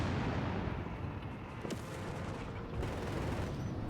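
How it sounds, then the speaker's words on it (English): Dense, continuous gunfire in Company of Heroes 3, a machine gun rattling steadily amid broadband battle noise, with a couple of sharper shots standing out near the middle and toward the end. "Machine gun going out as well there."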